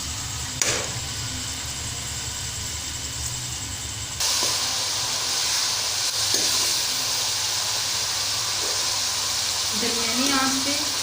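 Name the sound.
chopped onions frying in oil for karhi pakora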